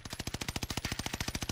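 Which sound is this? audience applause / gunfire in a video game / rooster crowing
gunfire in a video game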